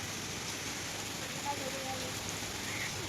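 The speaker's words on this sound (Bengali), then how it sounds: "বৃষ্টি তো ভালোই পড়ছে একটু।" Steady rain falls continuously, a soft broadband hiss with scattered drops, no voices.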